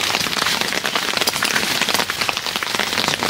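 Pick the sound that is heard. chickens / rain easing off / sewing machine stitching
rain easing off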